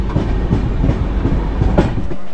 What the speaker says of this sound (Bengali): কুমারডুবিতে ট্রেন চলে এসছে।